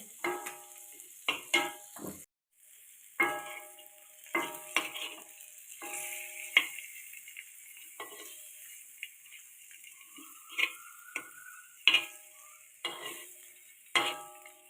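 Eggs frying in a pan for egg biryani, with bursts of stirring and scraping over a soft sizzle, coming in short, irregular clusters with quiet gaps between them.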